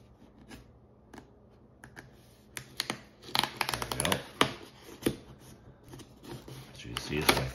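Close-up packaging handling while an Elgato HD60X capture card box is opened: irregular crisp clicks, taps and rustles of cardboard and plastic, sparse at first, then denser and louder through the middle and end.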